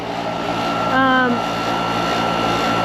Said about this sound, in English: our air conditioner is working overtime